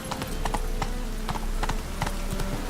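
Horse hooves trot in The Witcher 3, a steady clip-clop rhythm of hoofbeats at moderate volume over quiet game ambience.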